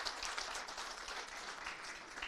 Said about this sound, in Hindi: चैंपियन के लिए तो तालियां होनी चाहिए